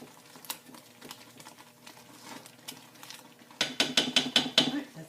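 Hot process soap infused with dandelion, rice flour and shea is stirred in a pot, first as a quiet scraping, then as a burst of sharp rhythmic clinks of the utensil against the pot near the end.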